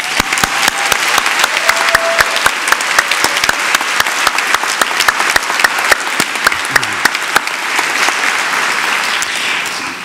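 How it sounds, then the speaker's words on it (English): A large convocation audience gives warm, sustained applause, with dense crisp claps at an even level for the full stretch and no speech over it. "could you please join me in a warm round of applause for your families and friends"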